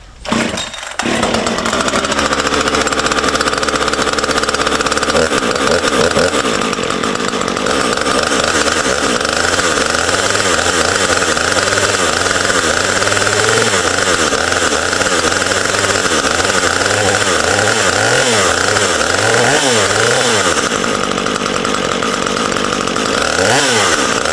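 A chainsaw engine that has just been started runs loud and close for a long stretch. It idles and revs with wavering pitch, and no one speaks over it.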